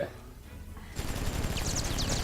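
Gunfire in Injustice: Gods Among Us, starting abruptly after a quieter moment and continuing as a rapid, dense rattle of shots with fighting effects, under a voice talking.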